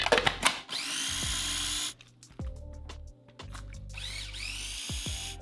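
A Magic Bullet blender whirs loudly in bursts while pulsing parsley into a pesto-like paste, its motor starting and stopping several times with whining spin-downs between runs.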